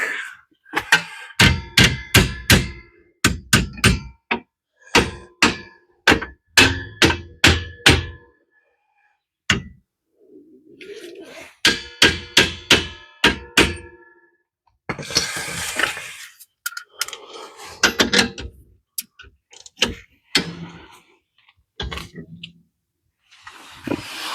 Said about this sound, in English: Let's just get a couple taps here with the hammer.